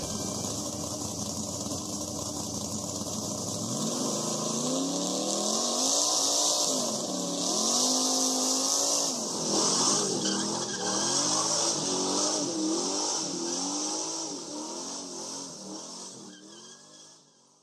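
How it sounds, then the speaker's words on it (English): Race car engines fire up and rev at a stock car race, a dense roar of several engines rising and falling in pitch with repeated throttle blips, loud and sustained before fading at the end. "Start your engines."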